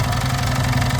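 An old motorcycle engine in a museum restoration workshop, loud and close, running with a steady low idling throb and rapid, even firing pulses across the whole short burst.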